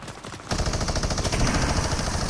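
Rapid automatic gunfire from a Fortnite battle royale match bursts in after a quiet half-second lead-in, then rattles on loudly and steadily in dense, continuous volleys.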